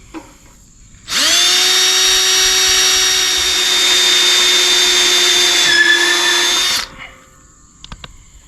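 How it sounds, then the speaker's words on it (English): A power drill bores into metal to set a screw for a gate wheel, starting abruptly with a loud steady high whine that holds for about six seconds, the pitch dipping slightly under load near the end before stopping. "and start drilling."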